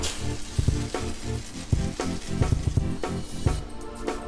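Fried onion mixture poured onto cooked beef for a tapioca-and-beef dish sizzles close up, broken by a quick run of rhythmic clinks and scrapes from the pan and spoon, with no talking.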